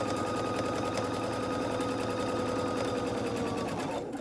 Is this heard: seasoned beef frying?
no